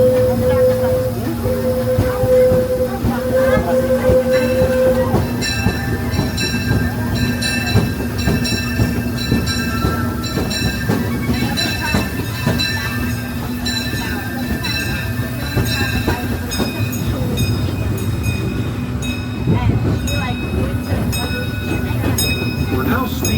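Riding aboard the Disneyland Railroad steam train: steady rail rumble, clacking wheels and hiss, with a whistle tone early on, under occasional talk.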